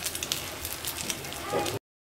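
Bread slices frying in a pan for toast, a soft continuous sizzle with light crackling throughout, close and fairly faint, cutting off abruptly near the end.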